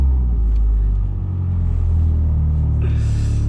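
A car engine fires up via a start/stop button, a deep steady idle rumble settling in close and loud, with a brief dip before a higher hiss near the end; no talking over it.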